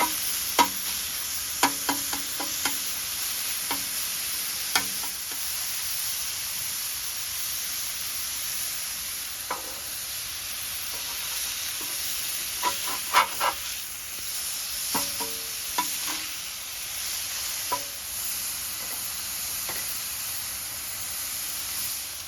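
Cheesesteak meat frying on a flat top under a constant sizzling hiss, broken by bursts of sharp metallic scraping and chopping as a spatula cuts through it, close and clear with no talking.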